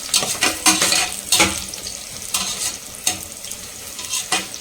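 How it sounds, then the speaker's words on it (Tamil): Onions fry with garam masala in a pan, a steady close sizzle broken by repeated scraping stirs in an uneven rhythm, with no talking. "வெங்காயம் நல்லா வந்து வதங்கணும்."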